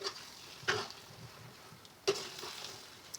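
Parboiled rice for Nigerian party jollof rice gets stirred in a pot, giving quiet scraping and two sharper clinks of a spoon against the pot, faint and sparse.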